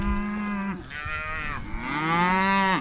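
Mashona cross cattle in a pen mooing loudly and close, two long drawn-out calls back to back with no talk.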